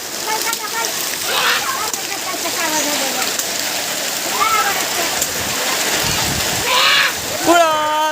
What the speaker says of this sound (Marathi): तर मित्र बघा पाऊस परत वाढलाय